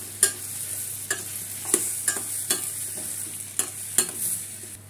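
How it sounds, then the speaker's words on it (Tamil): Capsicum being sautéed in a pan over a low flame for a green chutney, a soft steady sizzle broken by about eight distinct scraping stirs of a spoon against the pan. "குடமிளகாய் வந்து நிறம் மாறாத அளவுக்கு சிம்மில் வச்சு நல்லா வதக்கிக்கலாம்."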